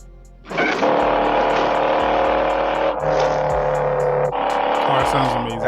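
A car engine revs hard in a movie scene, a loud sustained roar that climbs in pitch and drops back at two gear changes, continuous from start to end.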